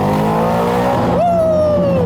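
A CFMOTO 450NK motorcycle with its stock exhaust revs up sharply, the engine note rising to a loud, close wail that holds and slowly falls off over about a second.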